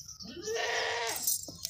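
A healthy dairy goat with six-day-old kids bleats once, a close, loud, wavering cry lasting about a second, alone without talk.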